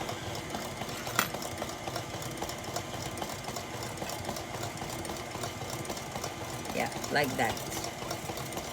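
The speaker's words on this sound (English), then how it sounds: "While the mixer is working, we put sugar." An electric mixer beats seven eggs with a cup of sugar for a sponge cake, giving a steady mechanical whirring drone throughout, with a brief spoken remark over it.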